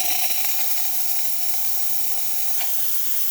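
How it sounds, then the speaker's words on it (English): The steam wand of a freshly serviced Pasquini G4 heat-exchanger espresso machine hisses in a steady, loud, unbroken rush of steam at close range, with no talking. "now we're going to test the steaming"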